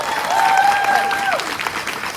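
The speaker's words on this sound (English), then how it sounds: "Give them a big round of applause." Applause from the audience at a Mary Kay career conference at National Harbor, a dense, steady crowd clapping that fills the room, with a sustained tonal note and some voices mixed in.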